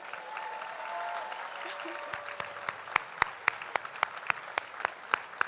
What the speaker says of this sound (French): Je pense que vous pouvez vous applaudir à nouveau.